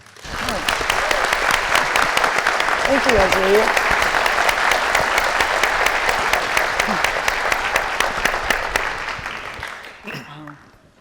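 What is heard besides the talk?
audience applause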